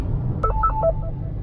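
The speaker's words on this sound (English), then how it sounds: "Oh, the phone's ringing." A short run of electronic telephone tones plays close by, a quick sequence of beeps lasting about a second.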